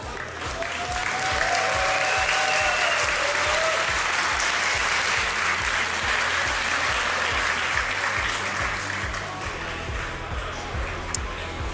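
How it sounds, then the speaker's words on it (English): A crowd at the Yu-Gi-Oh European WCQ Berlin 2025 tournament final applauds steadily and loudly for the whole stretch, a dense even wash of clapping over a faint low rhythmic pulse. "Can we get a round of applause from the crowd?"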